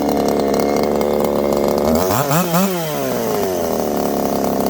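A Wild Thing chainsaw fitted with a 9-tooth 1/4 inch sprocket screams loud and close, its engine revving up and down in a sharp sweep before settling back to a steady high whine.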